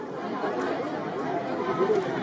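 Dense crowd chatter fills a bullock cart race ground at a horse-and-bullock cart race in Sinnar, a steady murmur of many voices at moderate distance with no single voice standing out.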